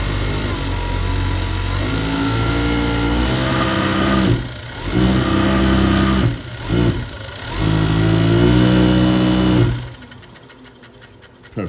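A Consew CN-897VC coverstitch sewing machine runs in fast bursts, a loud close buzzing whir that stops briefly twice and then winds down near the end, with no talking.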